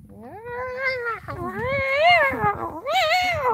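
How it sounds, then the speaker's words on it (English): Cats screeching at each other in a fight, long wailing yowls that rise and fall in pitch, loud and close, with a few overlapping rough cries. "Oh, see, the cats are going at it now."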